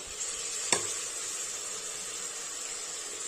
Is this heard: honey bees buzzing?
no